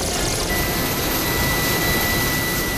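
A rescue helicopter evacuating a patient in the Seoraksan mountains roars as a loud, continuous broadband engine and rotor wash, steady and close with a faint high whine above, and no voices.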